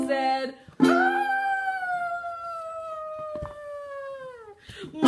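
A person's voice gives a long, drawn-out, rising-then-falling howl-like roar imitating an elephant, loud and close, with reading voice around it.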